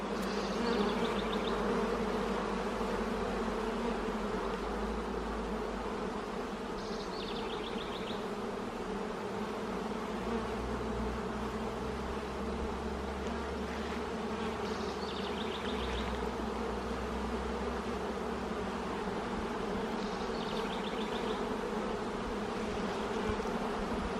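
Honey bees swarm around an open hive during an inspection, a dense continuous buzz that stays steady and close throughout, with no talking.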